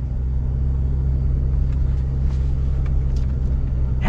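A Chevy Silverado ZR2 pickup crawls slowly off-road in one-pedal driving mode, giving a steady low engine rumble close by with faint scattered clunks and rattles over the top.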